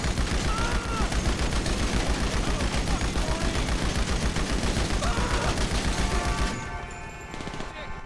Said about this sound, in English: I don't know who I'm shooting at